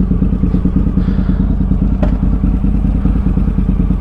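A motorcycle engine runs in city traffic with a loud, steady, close throbbing beat, broken once by a sharp knock partway through.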